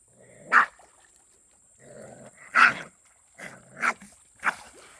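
Dogs on a walk at the Iroquois National Wildlife Refuge face off against a raccoon, with four sharp close barks between low rumbling growls.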